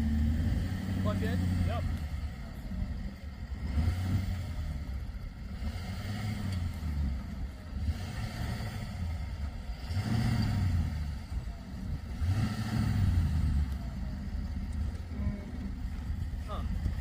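A 1965 Ford F750 firetruck with a 391 cubic-inch FT V8 runs with a steady low rumble that swells and eases, while people talk nearby throughout.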